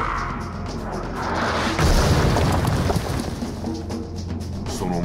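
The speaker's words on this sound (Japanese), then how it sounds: "Explosion." A deep explosion from the Tekken video game story booms out and rolls into a long, rumbling blast with crackling debris. It is loud and fills the scene, and no voice is heard.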